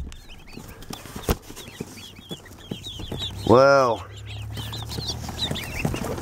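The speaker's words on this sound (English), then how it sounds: "Live baby chicks." Many live baby chicks cheep together in a mailed hatchery box, a steady chorus of quick high chirps, close and loud. A person exclaims midway, and a hum continues underneath.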